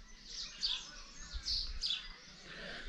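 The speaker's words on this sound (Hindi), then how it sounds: "चिड़ियों की आवाज।" Small birds chirp and tweet in a quiet Uttarakhand mountain village in the early morning, several calls repeating close by over a soft steady background, with no talking.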